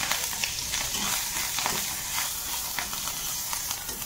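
Garlic and three or four green chillies sizzle in hot oil in a home kitchen, a steady close frying hiss with scattered pops and crackles throughout.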